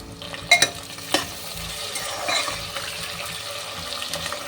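Small onions and tomato fry in white oil with a soft, continuous sizzle and hiss, broken by a couple of sharp clinks and light stirring near the start.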